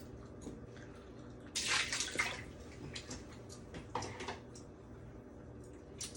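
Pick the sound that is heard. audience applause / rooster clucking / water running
water running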